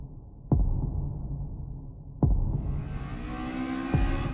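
A rival car's engine from Initial D, during the AE86 versus EK9 Todo School demo car battle, rising from a low hum into a growing roar, with sharp thumping beats punctuating it.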